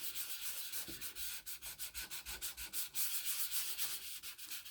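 Sand block rubbed back and forth over a surface at a craft table, a steady close rasping with even repeated strokes that quicken toward the end, no voices.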